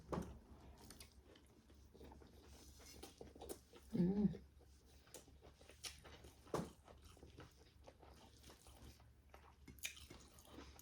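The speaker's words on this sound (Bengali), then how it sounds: "প্রথমে কপি বাজি দি খাই" Someone eats fried cauliflower, with soft close-up chewing and a louder burst of biting and munching early on, the rest quiet and intermittent.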